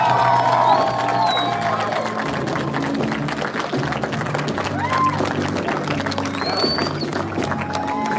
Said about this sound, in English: Let's give a big round of applause to our graduates.